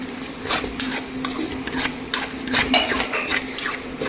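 Dal dhokli is stirred in a pot with a metal spoon, giving a close, busy run of clinks and scrapes against the sides over a faint simmering hiss.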